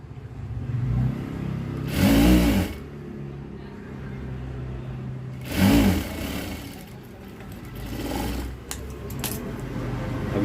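A sewing machine stitches a lined blouse in two short motor-driven bursts, a whirring hum rising and falling over steady room noise.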